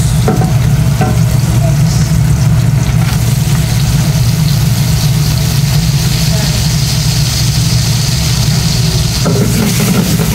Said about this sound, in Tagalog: Kunting gisa-gisa lang.